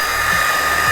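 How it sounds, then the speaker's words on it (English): Airbot Hypersonic Pro cordless vacuum cleaner running on its high setting, a loud steady whine with a strong high-pitched tone and an airy roar, close and continuous with no talk. "Quite loud for a vacuum."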